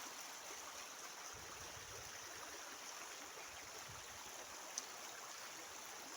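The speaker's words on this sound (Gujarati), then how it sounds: "તો ચાલો બતાવું, મારે નંદીમાં પાણી આવ્યું।" River water flows steadily after fresh water has returned to a previously dry riverbed. A soft, continuous rushing wash fills the whole stretch, with one brief faint click and no talking.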